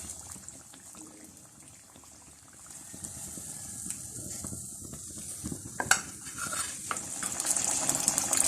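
Chana dal puris frying in hot oil, a steady crackling sizzle that grows louder and busier halfway through, with occasional utensil clinks and bubbling.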